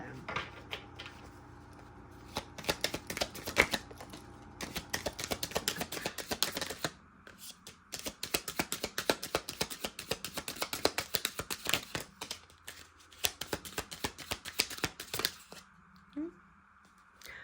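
Oracle cards shuffled by hand, a long run of rapid crisp riffling and flicking clatter, loud and close, rising and pausing in bursts with a voice talking in the background.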